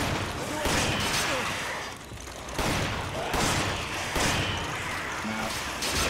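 Rapid gunfire bursts from the video game Resident Evil 5, with repeated loud volleys and brief lulls across the span, close and dense, mixed with faint game effects.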